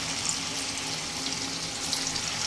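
Chhana (cottage cheese) balls frying in hot oil, giving a steady, close, dense sizzle and bubbling hiss that continues evenly without pause.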